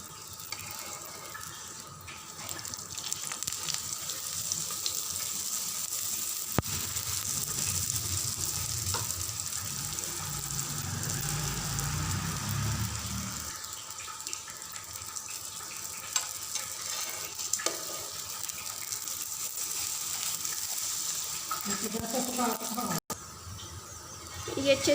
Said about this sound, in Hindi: इसमें हम डालेंगे थोड़ा सा कुकिंग ऑयल और दोनों साइडों से इसे अच्छे तरीके से पकाएंगे